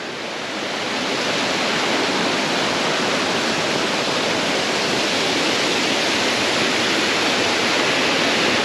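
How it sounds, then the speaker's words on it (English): A steady, full roar of falling water fills the scene, broad and constant like a close waterfall, with no other sounds standing out. "come over here and check out this really nice waterfall"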